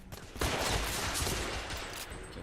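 Rapid burst of gunfire from a small revolver in the video game The Order: 1886, loud and dense with overlapping shots filling the whole moment, no talk.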